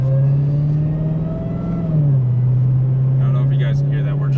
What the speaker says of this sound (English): You guys can hear that we're just like under park throttle, very light, and that supercharger whine is just something else.